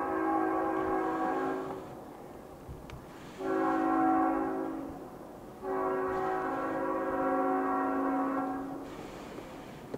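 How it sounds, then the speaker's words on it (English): Three long, loud blasts of a passing train's horn are separated by short gaps, over a steady low rail rumble outdoors. "There's a train coming and the guy's there with the dog."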